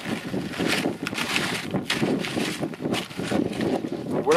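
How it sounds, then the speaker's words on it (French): Gusty wind buffets a microphone outdoors at a ski touring spot, a loud, uneven low rumble that swells and dips continuously throughout. "il y a du vent, on va rien entendre"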